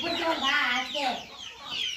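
Native country chickens cluck and chatter close by in a short burst of overlapping calls, fairly loud and busy throughout.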